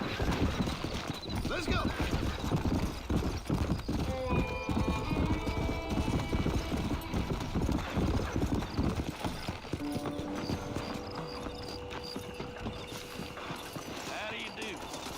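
Horse hooves clip-clop at a galloping pace in the Western game Red Dead Redemption, a steady rapid drumming that runs throughout under occasional voices, short whinny-like tones and background game music.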